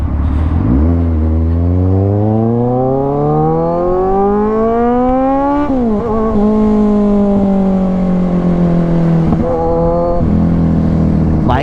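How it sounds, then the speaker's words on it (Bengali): A superbike's extremely loud exhaust roars close by, the engine revving upward in a long rising climb, briefly dropping, holding a steady drone, then rising again near the end, with no voices. "বাইকের এক্সস্টটা কিন্তু এক্সট্রিমলি লাউড"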